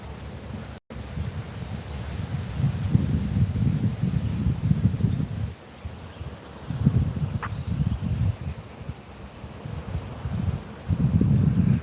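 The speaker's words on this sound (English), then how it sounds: "Oh man, that wind is cold." Steady wind buffeting a microphone, rumbling low and loud in long gusts with brief lulls, no voices.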